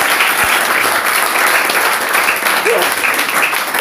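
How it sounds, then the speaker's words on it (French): Applause from a congregation at a religious gathering, a dense, sustained wash of clapping filling the whole stretch at steady loudness, with faint voices mixed in. "Applaudissons pour le Seigneur"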